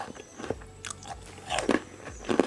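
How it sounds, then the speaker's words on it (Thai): Crunchy baked dried jackfruit is bitten and chewed close up, giving a few sharp crisp crunches spaced apart, the last two the loudest. "ขนุนอบกรอบ ชิมสิ กรอบมาก"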